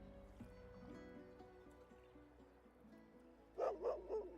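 A dog barks in the fantasy role-playing game Divinity: Original Sin 2, a quick run of three yips near the end after quieter music and ambience, moderately loud and close.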